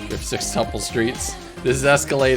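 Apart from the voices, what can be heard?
No distinct noise like a dog, phone or traffic.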